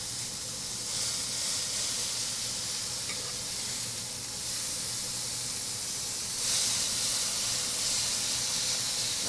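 Smash burgers sizzle on a Chantal stainless griddle set on a GE Cafe induction range, giving a steady, loud, continuous hiss that swells slightly near the end. No one speaks.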